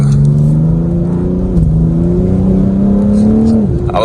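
A BMW car accelerates on a gravel road, its loud, close engine drone holding steady and then climbing in pitch over several seconds before easing off at the end.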